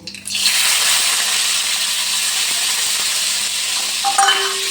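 Green peas drop into hot mustard oil seasoned with black cumin, setting off a loud, steady sizzle and crackle of frying that continues throughout, with a light scrape of stirring near the end.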